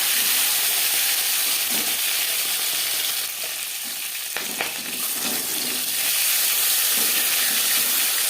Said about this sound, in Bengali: মাছ ভাজবার জন্য 4-5 চামচ রিফাইন্ড অয়েল গরম করে নেওয়ার পর দিয়ে দেবো ম্যারিনেট করে রাখা মাছ